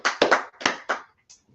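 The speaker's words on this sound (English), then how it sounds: "Clap it up for the sister right there." A few people clapping for a woman at a religious gathering, producing scattered, uneven bursts of hand claps that start and stop with short gaps between them.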